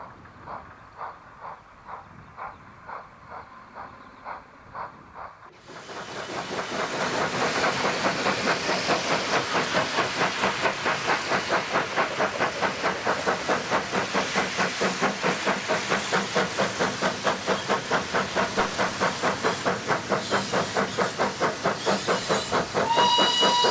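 A steam train hauls a heavy load over a canal bridge on the Astley Green and Walkden Railway. Soft rhythmic chuffing gives way to a loud, sustained roar of hissing steam and fast, steady exhaust beats, close and continuous.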